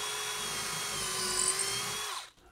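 Electric drill boring a 3/16 pilot hole into a wooden wall stud through drywall, a steady high whine held for about two seconds before stopping abruptly.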